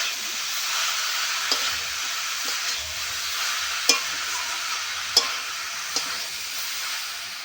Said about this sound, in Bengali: কপিটা বেশ ভালো করে কষে নিয়েছি।